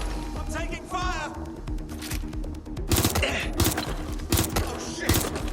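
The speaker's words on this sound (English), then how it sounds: "I'm taking fire!" A fight in Watch Dogs: Legion brings sharp, repeated gunshots in irregular volleys that grow denser partway through, mixed with a tense score and voices talking throughout.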